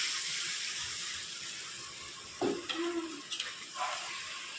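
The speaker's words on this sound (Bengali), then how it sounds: "তো এবার জল দিয়ে দিলাম।" Water pours into a pan of fish curry gravy on the stove, heard as a faint wash of sizzling hiss with a few short splashes and bubbling bursts in the second half.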